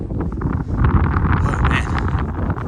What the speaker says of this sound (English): Boy, that wind has some bite to it.